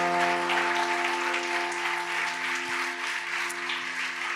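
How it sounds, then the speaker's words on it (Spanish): A church congregation at a Sunday service applauding for the Lord, a dense, continuous clapping over a sustained instrumental tone, loud and steady throughout. "Vamos a darle un aplauso al Señor"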